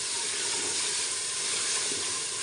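Black chickpeas roast in a hot pan with a steady, even hiss and sizzle that carries on unbroken, fairly close and moderately quiet, with no voices.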